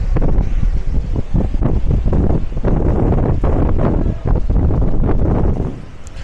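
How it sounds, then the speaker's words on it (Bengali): Strong gusting wind during a rainstorm roars loudly and continuously into the microphone, with brief lulls and buffeting bursts, easing slightly at the very end. "বাতাস এখন একটু কমলো,"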